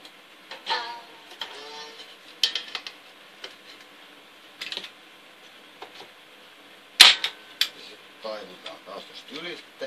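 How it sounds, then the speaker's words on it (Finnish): A staple gun fires staples to fix wire on a beehive frame, a handful of sharp, separate snaps spaced a second or two apart, with quiet handling noise and occasional low talk in between. "ammutaan toisen niitin kiinni"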